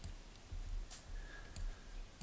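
Computer mouse clicks and keyboard taps from someone working at a desk, a few sharp, isolated clicks spaced irregularly over quiet room tone, close and fairly faint, with no talking.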